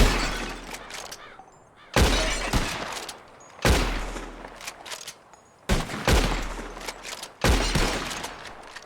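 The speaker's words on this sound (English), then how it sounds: "Who can shoot the most bottles? Just draw your gun and aim when you're ready" Gunshots in Red Dead Redemption 2 as a revolver fires at bottles in a shooting contest: five loud, sharp reports spaced roughly a second or two apart, each followed by a ringing, decaying tail.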